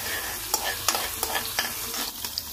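Chopped garlic and a green chili frying in oil for chilli paneer gravy, a soft crackling sizzle with several quick scrapes and taps of a stirring spoon, close but fairly quiet.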